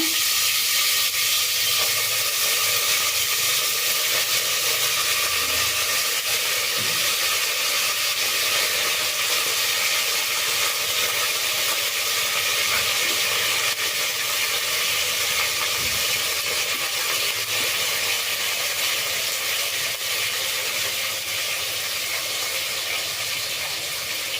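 Fresh pigeon peas added to a hot pan for a Karnataka sambar with brinjal and potato, producing a dense, loud and unbroken hissing sizzle that holds steady from start to finish, no talk.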